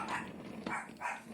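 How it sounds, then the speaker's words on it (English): Dogs barking in the background, a few short muffled barks spaced across a brief moment, moderately distant with no talk over them. "there were some dogs in the background barking"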